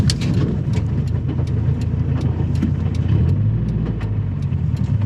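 A boosted Toyota FRS running at speed with its engine droning loud and steady, while loose parts rattle in quick irregular ticks throughout; no one speaks.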